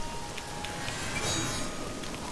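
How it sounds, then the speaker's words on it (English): Steady rain pours down in The Elder Scrolls IV: Oblivion, a constant broadband hiss that runs the whole stretch without break, with no speech over it. "Okay, it's raining."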